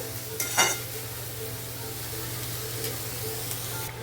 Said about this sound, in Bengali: এবার পেঁয়াজটাকে একটু নাড়াচাড়া করব প্রথমে হালকা মানে ব্রাউন কালার হওয়ার জন্য অপেক্ষা করব